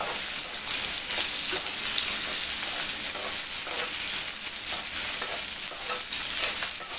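Sliced onions, two of them cut lengthwise, sizzle steadily in hot oil with fried dried red chillies for tomato chutney, a loud continuous hiss with occasional stirring, no talking.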